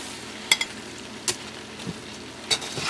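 A roux being stirred in a pot for crab and mushroom bisque gives a low, steady sizzle, with a few sharp scrapes and clinks from the spoon scattered through it.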